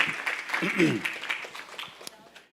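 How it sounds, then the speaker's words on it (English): A temple crowd at a Sunday feast claps for the pujari department, a dense burst of applause that starts full and thins out over a couple of seconds before stopping. "Let's give a big round of applause to the pujari department."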